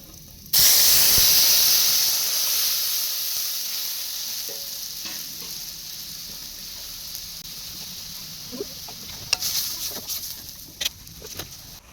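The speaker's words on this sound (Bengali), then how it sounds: "দেখো সর্ষেটা ফুটছে" Mustard, green chili and poppy seed paste sizzles and bubbles loudly in hot oil with black cumin in a pan, a steady frying hiss that starts abruptly and slowly fades, with a few faint clinks of stirring near the end.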